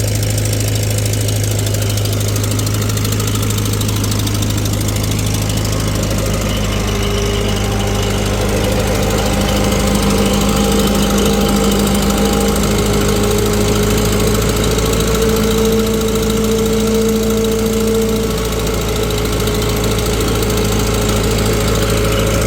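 A tractor engine labors steadily under heavy dyno load, a loud continuous drone with a knocking, vibrating exhaust note from the exhaust manifold and shifting tones.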